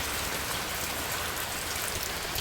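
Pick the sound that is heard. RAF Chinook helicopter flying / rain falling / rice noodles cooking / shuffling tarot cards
rain falling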